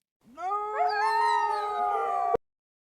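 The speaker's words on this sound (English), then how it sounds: "fox" A fox gives one sustained, high, harmonic howling call that rises slightly and ends abruptly after about two seconds, clear and close, with no talk.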